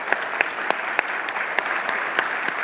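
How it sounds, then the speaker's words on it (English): Audience at a keynote event applauding: dense, steady clapping from many hands with individual sharp claps standing out, loud and continuous throughout. "Give them a round of applause."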